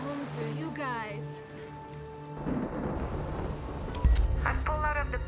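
A storm at sea rumbles with thunder and rain washing over wind noise, while voices speak over the roar, which swells louder toward the end.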